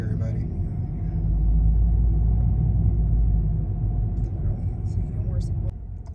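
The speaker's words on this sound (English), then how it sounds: "Look at all this traffic" Road traffic downtown, heard as a loud, continuous low rumble of cars driving past close by, with the hum of engines swelling and fading over several seconds.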